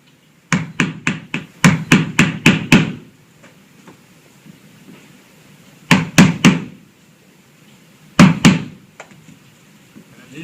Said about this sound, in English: I just need a chisel to bust that grain to